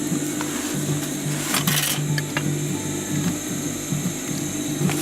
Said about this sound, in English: just sew a small square